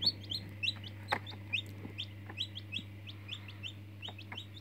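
Rapid high peeps from a chick inside an egg repeat in short bursts, faint and muffled, over a steady low electrical hum with occasional clicks.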